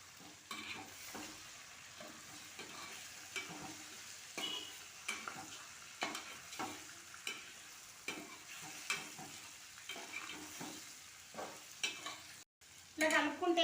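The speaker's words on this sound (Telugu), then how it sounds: "ఇగో చేపలు అయితే వేస్తున్నాను. వేసిన తర్వాత మంచిగా ఇట్లా కలపాలి." Fish pieces being stirred and fried in a pan for a Telangana-style fish curry, with a steady frying crackle under repeated, rhythmic scraping strokes of a spoon throughout, no talking.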